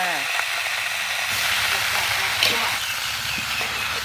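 Traditional Thai pork cracklings frying in a large batch of hot oil, a steady close sizzle with bubbling crackle throughout and a brief voice partway through.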